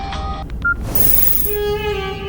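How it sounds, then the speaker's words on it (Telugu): A telephone keypad gives a short run of clear dialing beeps in a Telugu comedy scene, followed by a brief rush of noise and then a steady electronic ringing tone. No one speaks. "ఫోన్ అండి."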